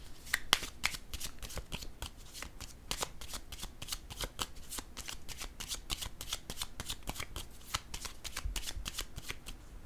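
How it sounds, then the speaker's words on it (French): Tarot cards are shuffled and laid down in a quiet, steady stream of crisp riffling clicks and soft slaps, close by and alone. "Je vais déposer une autre carte ici."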